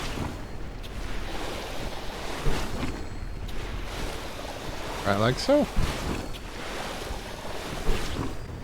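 A mech in the video game Lightyear Frontier sucks up water and goo, a continuous whooshing, sloshing wash with gurgling swells and a few short squeaky tones, running under a man's occasional speech.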